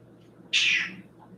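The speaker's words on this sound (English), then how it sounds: "My cat says that it is time for her dinner." A pet cat gives a single short, clear meow, close by, with a faint background hum around it.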